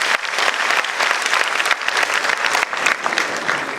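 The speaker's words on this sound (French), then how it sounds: "Si vous applaudissez, s'il vous plaît." A debate audience in Djibouti breaks into steady, dense applause, many hands clapping at once at close-to-moderate distance, sustained evenly without a break.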